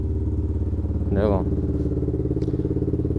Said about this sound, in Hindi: फिलहाल हो गई R15 कोल्ड स्टार्ट।